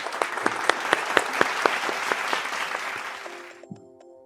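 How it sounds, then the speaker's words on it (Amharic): Audience members at a poetry event clap together in a steady rhythmic beat of sharp, evenly spaced claps that slowly fade before a few faint tones sound at the end. "ያው በበላይነት እስኪ አንድ ለህብረት ግን አጨብጭቡ"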